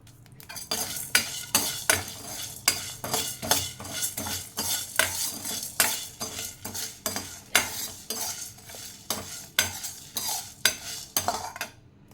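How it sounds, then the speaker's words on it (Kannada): Fennel and a spice mix fry in a pan for vegetable sambhar while a metal spoon stirs in quick rhythmic scrapes and clinks over a soft sizzle. "ಹೀಗೆ ಫ್ರೈ ಮಾಡ್ಕೊಳ್ಳೋಣ"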